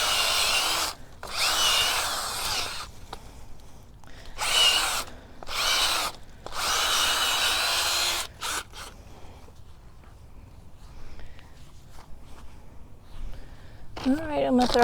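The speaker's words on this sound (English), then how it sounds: "easy to drill here." Power drill boring a hole into backyard ground, loud whining bursts of drilling separated by short pauses, close up, followed by quieter shuffling and faint talking.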